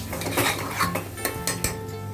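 A spoon scrapes and clinks steadily against a pan as turmeric powder is stirred into soya pulao, with several sharper metallic knocks and continuous close clatter and no talking.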